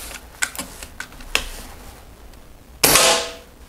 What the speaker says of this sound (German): Nochmal ein Schuss